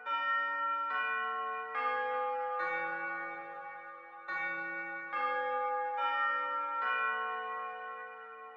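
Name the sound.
Westminster chime clock tower bells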